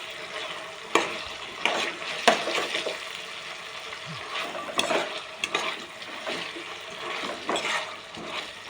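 Ivy gourd (dondakaya) pieces fry on low heat in a pan with a steady soft sizzle, broken by frequent clanks and scrapes as the pieces are stirred. No one speaks.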